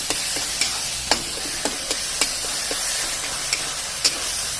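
Tomatoes fry in a pan for a potato curry, a steady sizzle broken by sharp clicks and taps of a spoon stirring at irregular intervals.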